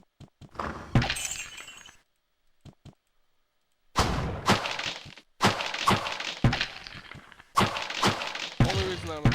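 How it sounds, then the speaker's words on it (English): Wooden barrels smashed in the Diablo video game, heavy breaking and splintering crashes landing in quick repeated bursts with short pauses between them, loud and close. "The only reason I'm attacking these barrels is so I can kill the guys who are hiding in them."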